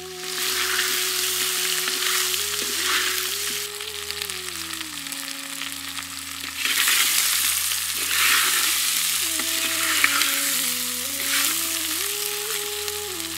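Mutton trotters stirred in a pan with rock salt and turmeric, a continuous close sizzle with scraping stir strokes, interrupted by a brief lull before frying noise swells again.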